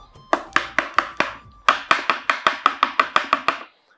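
Light tapping on a jam pudding mould, a quick run of about sixteen sharp, evenly spaced knocks, close and clear, with a short pause partway through.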